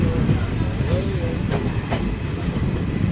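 Passenger train running on rails, a loud steady rumble heard from on board with faint squeals and a couple of brief metallic clicks.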